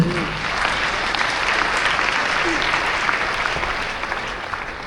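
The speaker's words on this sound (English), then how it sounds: "Clap for them again." A large crowd at a youth political campaign gathering claps steadily and loudly, dense continuous applause filling the whole stretch without a break.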